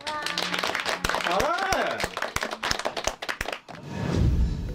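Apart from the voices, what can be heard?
people clapping in recording studio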